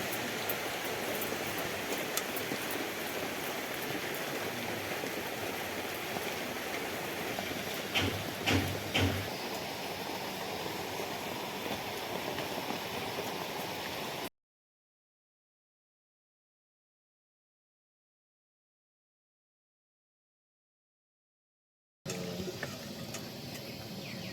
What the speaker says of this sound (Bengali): অল্প অল্প করে ভেজে নিব একসঙ্গে অনেকগুলো দেওয়া যাবে না